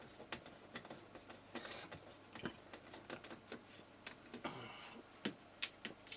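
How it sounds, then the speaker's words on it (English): A screwdriver works screws out of the corroded circuit board of a Sony ICF-PRO80 radio, giving irregular small clicks, ticks and scrapes up close, with no talking. "A suitable screwdriver to get these out."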